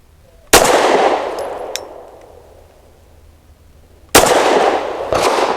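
Two loud, close shotgun blasts from an Ermox X-fire shotgun, each a sharp crack with a long ringing decay, spaced several seconds apart outdoors, followed by a faint metallic clink.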